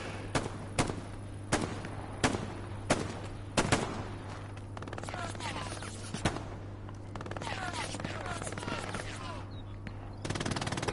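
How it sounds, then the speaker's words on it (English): Machine gun fire in the World War II shooter Hell Let Loose, sharp separate shots and short bursts spaced through the scene against a steady battlefield hum, with occasional distant gunfire and some talk. "You can hear an MG firing"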